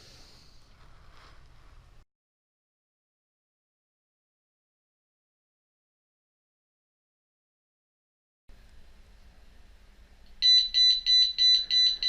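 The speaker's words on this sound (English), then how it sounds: "the alarm has started, so now we go into snooze mode" An Arduino Uno based alarm clock buzzer sounds near the end as a series of loud, regular electronic beeps, after low background hum and a long stretch of near silence.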